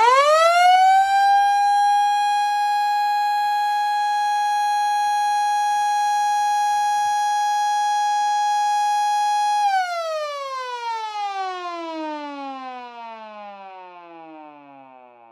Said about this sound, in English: let's go ahead and finally show you all what this siren sounds like running off of full